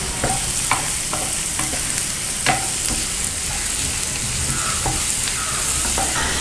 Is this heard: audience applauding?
no